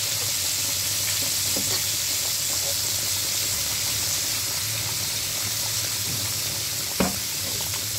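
Steady, loud sizzling of fish frying in a hot pan, with a sharp clink of utensil on metal near the end.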